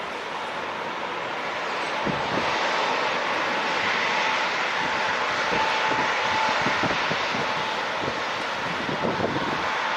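An airplane passes at San Diego International Airport, its engine roar steady and loud throughout with rumbling wind buffeting.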